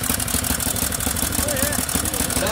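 A motorcycle idles at the start of the 51st Nutter van der Heide Rally in Noordwolde, a steady, close, rumbling engine throb that runs through the whole moment while people talk nearby.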